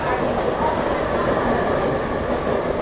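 Heard from inside a coach of the Mandovi Express between Mumbai and Goa, the train rumbles along in a dense, steady roar with faint wheel clatter, with no break in the noise.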